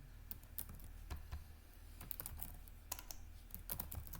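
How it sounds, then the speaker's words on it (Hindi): Rapid clicking of computer keyboard keys as text is typed into Notepad, steady irregular keystrokes close up over a low background hum, no voices. "जैसे इसमें आप कुछ टाइप करते हैं"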